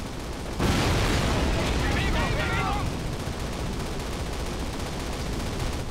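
Call of Duty gameplay with a loud burst of gunfire and explosion setting in right away, then continuing as dense, sustained battle noise with faint voices mixed in.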